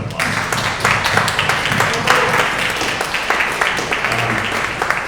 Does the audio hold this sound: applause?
yes